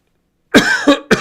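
At a live press conference, three quick harsh coughs, close and loud, after a moment of silence.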